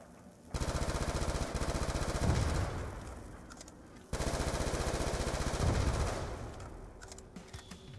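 Rapid automatic fire from an upgraded Type 25 rifle in a zombies video game: two long, steady bursts of closely spaced shots, each lasting several seconds, separated by a brief gap, with a few scattered shots trailing at the end.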